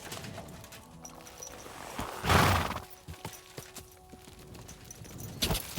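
Horse hooves clip-clop in Kingdom Come: Deliverance II, a few close hoof strikes with a brief whoosh and scattered thuds over a game ambience.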